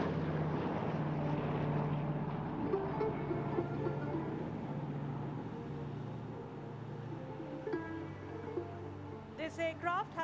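Aircraft flying at the Aero India 2021 air show, a sustained engine drone with low rumbling harmonics that fades slightly over time, with a short burst of other sounds near the end.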